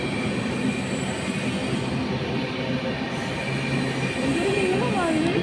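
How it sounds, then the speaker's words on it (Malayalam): The Rajdhani Express passing close by on an Indian railway line, a loud continuous rumble of wheels and carriages with some squealing toward the end, under light talk. "ഈ ട്രെയിൻ കണ്ടോ, ഇത് രാജധാനി എക്സ്പ്രസ് എന്നാണ് പറയുന്നത്"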